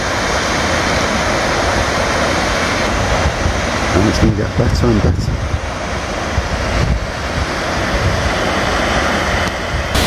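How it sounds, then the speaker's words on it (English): A waterfall of water plunging down roars as a loud, constant broadband rush, with gusts of wind buffeting the microphone and someone speaking briefly partway through. "So I've arrived at the first waterfall, as you can see."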